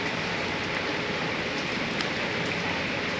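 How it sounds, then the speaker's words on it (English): Dense, even rainfall hisses continuously at Plitvice Lakes National Park, close and steady, with occasional sharper drops standing out, and no voices. "It has started raining again"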